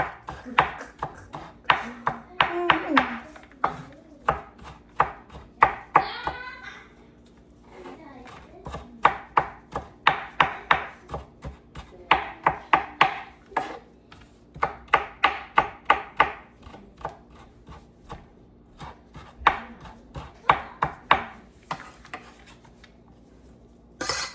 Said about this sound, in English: So I'm gonna go chop it like, you know.